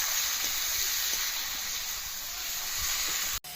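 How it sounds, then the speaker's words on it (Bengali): Cumin, coriander, turmeric and chili powder with salt sautéing in a pan for a fish curry, a steady, close sizzle and hiss throughout with faint stirring taps, cut briefly near the end. "এবার সব কিছুকে খুব ভালো করে কষাবো"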